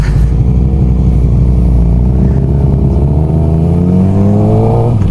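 Two sport bikes, a Suzuki GSX-R 600 K7 and a Ducati 899 Panigale, rumble steadily close by, one engine's pitch climbing gradually as it revs, with no talking.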